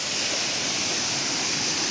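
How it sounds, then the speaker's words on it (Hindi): A chilled mountain waterfall roars steadily and loudly, a dense, unbroken rush of falling water filling the whole moment with no voices. "ये चिल्ड वाटरफॉल"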